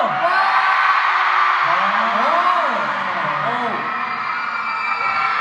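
A large arena crowd at a TWS K-pop concert in Seoul roars and cheers, with loud whoops and shouts swelling over a sustained wall of crowd noise, while performers call out over it.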